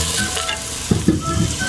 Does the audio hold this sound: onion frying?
yes